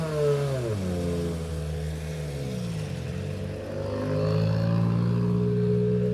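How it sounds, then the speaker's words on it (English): Rally cars at the start of the 2022 WRC Acropolis Rally in Greece rev their engines and accelerate, the engine pitch sweeping up and down in loud, close surges that build toward the end. "It's very noisy with these cars on, obviously."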